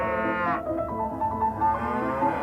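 Cattle in a barn moo loud and close, one long drawn-out bellow with a falling pitch that trails into a lower, sustained lowing, with no voices present.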